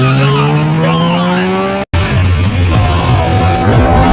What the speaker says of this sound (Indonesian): Dan ia pun lalu menancapkan gasnya.